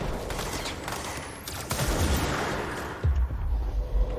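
Rockets fired at the player in the action video game Control, heard as a dense barrage of booming gunfire and explosions, with heavier low blasts hitting around the midpoint and again near the end.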